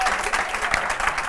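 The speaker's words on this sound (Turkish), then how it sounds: "Alkışlayın Serenay'ı da, bir Ezgi'yi de." Studio audience applauding on a Turkish late-night talk show, a steady dense wash of clapping filling the whole short stretch at moderate level with no talk over it.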